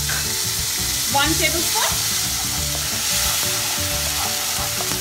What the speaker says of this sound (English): Now put the ginger garlic paste into it.